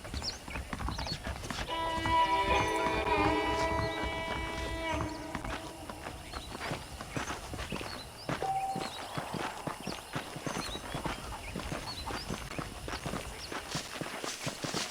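Hooves clip-clop in a steady walking rhythm in Red Dead Redemption, with a horse whinnying over game music early on, while someone talks over the sounds.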